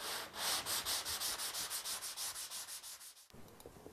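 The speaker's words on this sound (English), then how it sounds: "At this point, lightly sand any high spots." Drywall compound patch being lightly sanded by hand, a steady run of rhythmic back-and-forth scratchy strokes, close and fairly quiet, ending with a brief pause and softer rubbing.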